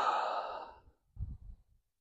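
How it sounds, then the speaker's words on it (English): A single deep breath let out as a long, breathy sigh, with faint low shuffling sounds after it, during quiet horsemanship groundwork with a horse. "take a deep breath"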